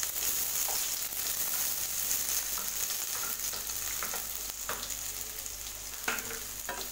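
Chopped onions fry in hot oil for a soya bean gravy, giving a constant close, loud sizzle with occasional stirring clinks and scrapes of a spoon in the pan.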